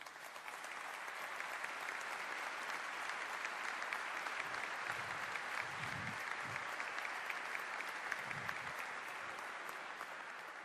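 An audience at a political launch event in Uruguay applauding, a dense continuous clapping that holds steady and loud throughout without a break.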